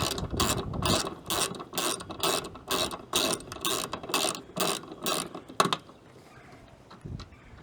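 Ratchet wrench loosening an old factory fender bolt and bracket on a 4x4 Sprinter van, a rapid run of about a dozen close, even clicks over five seconds, then a brief clank and quiet.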